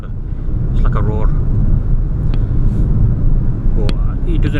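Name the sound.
Peugeot 2008 1.2 PureTech petrol engine roar while driving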